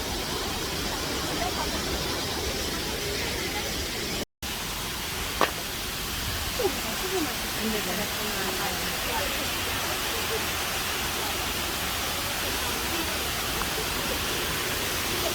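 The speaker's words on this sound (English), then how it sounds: "I did this holy waterfall" The holy spring waterfall at Taman Beji Griya in Bali sprays in a steady, broad hiss of falling water, close and unbroken, with a brief dropout near the start.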